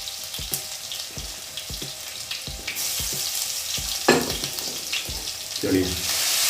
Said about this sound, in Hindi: इसमें अपने वही आयरन के सोत में कुटा हुआ अदरक और लहसुन वो डाल देना इसमें